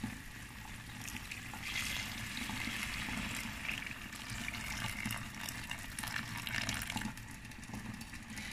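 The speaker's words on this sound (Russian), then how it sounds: "заливаем это все горячей водой, то есть кипяточком." Boiling water poured from a kettle over stewing meat and pickles in a pan for Tatar-style azu, a steady close splashing trickle lasting throughout with no talk.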